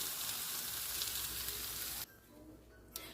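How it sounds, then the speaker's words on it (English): A Tuscan-style one-pan bake simmers and sizzles with a steady, soft frying hiss for about two seconds, then drops abruptly to quiet, with a brief faint knock near the end. "I'm just going to let it simmer like this for about 3 or 4 minutes"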